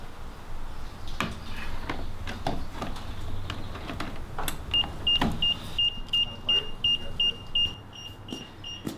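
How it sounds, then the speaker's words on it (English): A receiver's beeper sounds a rapid series of short, evenly spaced high beeps, about a dozen in quick rhythm, over faint background noise and occasional clicks. "that beeping noise is normal and it's going to be going off"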